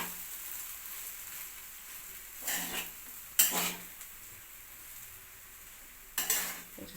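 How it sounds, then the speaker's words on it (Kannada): Masala rice being stirred in a pot off the heat, with a steady faint background and three short scraping clatters of a spoon against the pot, loud and close. "ಚೆನ್ನಾಗಿ ಮಿಕ್ಸ್ ಮಾಡ್ತಾ ಇದ್ದೀನಿ"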